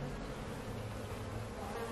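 Honey bees in a hive drone in a dense, continuous buzz, steady and close without any talking.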